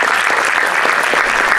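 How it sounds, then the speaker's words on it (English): A room of people applauds a speaker being called up at an evening space-themed event in Orlando, steady dense clapping sustained and fairly loud throughout with no voices over it. "Please give a round of applause for Ruben Nunez."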